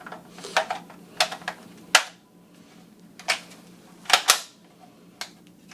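Suppressed .22 rifle fires a series of subsonic and high-velocity rounds in an irregular rhythm, each a sharp, fairly loud crack over a low steady hum, with several shots spaced about a second apart.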